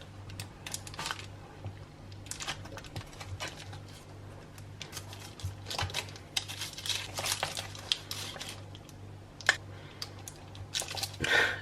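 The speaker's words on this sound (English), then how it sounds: "I'm very carefully going to cut the fudge into little cubes" A sharp knife cuts slabs of no-bake chocolate fudge into small cubes: soft, scattered taps and clicks of the blade against the board, faint and close, with no talking.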